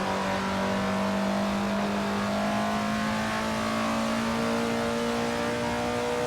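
A 1930s Maserati race car on bias-ply tires at historic Monza in Assetto Corsa, engine held at a loud, sustained high-revving drone with a slowly rising pitch and a steady throttle.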